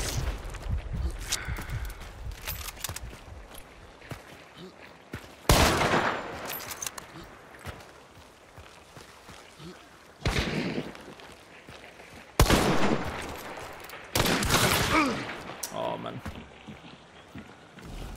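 Scattered gunshots in the video game Hunt: Showdown 1896, several loud isolated blasts with long ringing tails separated by quieter stretches of ambient noise and soft movement, with a voice talking briefly.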